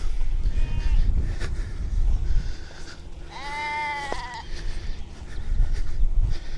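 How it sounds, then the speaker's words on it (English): A single drawn-out sheep bleat rises clearly midway, with a fainter bleat earlier, over gusty wind buffeting the microphone, on Warbstow Bury Iron Age hillfort in Cornwall on a hot day. "Sheep are happy."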